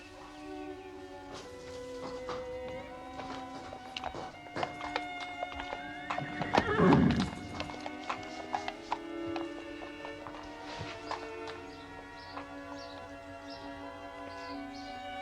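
Shoscombe Prince, a racehorse in a country stable yard, clip-clops steadily across the whole stretch and lets out a loud neigh midway, with stable noises and music-like tones behind, no talk.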